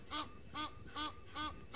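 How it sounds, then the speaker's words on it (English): Egyptian geese calling on an African safari waterside, four evenly spaced honking calls about half a second apart, moderately distant over quiet background. "if you go back to the Egyptian geese now, both of them are now calling"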